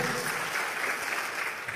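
A church congregation claps during a sermon, a dense, even wash of applause that holds steady at moderate volume for the whole short stretch with no voices over it.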